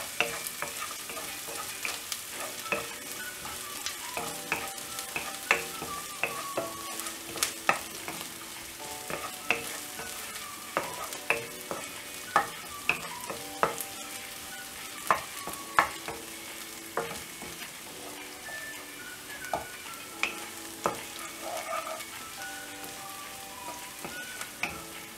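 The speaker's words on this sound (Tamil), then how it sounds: "பூண்டு இஞ்சி ஃப்ரை ஆன உடனே இதுல பச்சை மிளகாய் ஆட் பண்ணிரலாம் பச்சை மிளகாயும் போட்டுட்டு ஃப்ரை" Garlic, ginger and green chilies fry in a pan, a soft continuous sizzle broken by frequent clinks and scrapes of stirring at close range.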